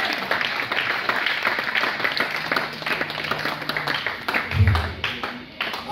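A church congregation at a Sunday seminar service applauds. The clapping is dense and sustained, with voices mixed in throughout.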